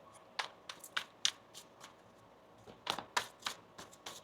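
Tarot cards are shuffled close by in soft, quick riffling bursts, about a dozen papery flicks in two clusters with a short lull between, quiet and without talk.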